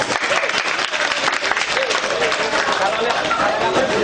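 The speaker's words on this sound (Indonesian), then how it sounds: "ya tepuk tangan dulu" Audience applause at an indoor graphology session, dense and continuous clapping from many hands that holds loud throughout, with a voice faintly mixed in.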